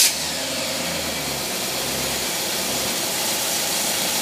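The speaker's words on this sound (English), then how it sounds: "she's idling about 600 to 700." A small Predator engine fitted with a carburetor idles at around 600 to 700 rpm, giving a steady, loud, continuous rumble that runs unbroken from start to finish with no voices.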